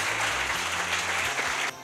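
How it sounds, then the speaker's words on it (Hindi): Crowd applause at a college welcome ceremony in Patna, a dense, steady wash of many hands clapping at moderate volume that carries on before dropping off abruptly near the end. "एक बार जोरदार तालियों के साथ स्वागत"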